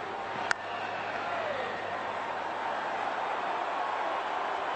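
A large cricket crowd at the MCG keeps up a steady, distant roar of cheering and murmur, with one sharp click near the start.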